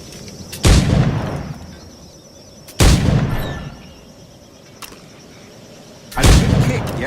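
Firearm shots in Assassin's Creed IV: Black Flag, three loud booming reports spaced a couple of seconds apart, each trailing off in a long rumbling decay, with a faint click between them.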